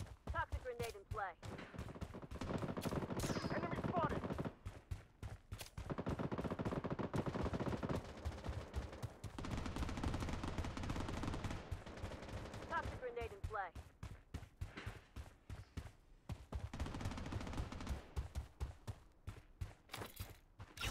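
Dense bursts of automatic gunfire and rapid single shots from a battle royale shooter match in Blood Strike, loud and continuous through most of the stretch, with short gaps of quieter footsteps and clatter between volleys.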